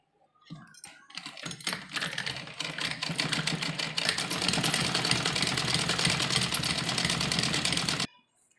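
A sewing machine runs a fine, pressed-down seam on a V-shaped umbrella frock, starting with a few stuttering stitches and then settling into a loud, steady, close mechanical run that stops abruptly.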